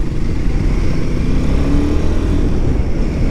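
A Royal Enfield Himalayan adventure touring motorcycle is ridden, its engine a loud, constant low rumble mixed with rushing wind.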